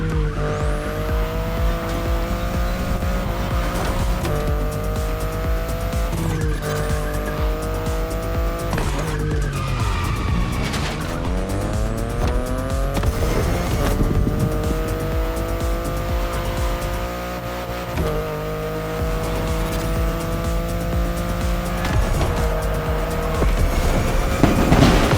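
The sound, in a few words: BMW car driving with tire squeal, video game The Crew Motorfest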